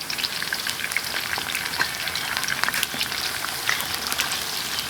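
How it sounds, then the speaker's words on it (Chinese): A handful of Sichuan peppercorns frying in hot oil flavoured with ginger, coriander and garlic, a continuous close sizzle with scattered sharp crackles and pops. "熬这个油的时候，火不要太多，太大。 一把花椒下进去"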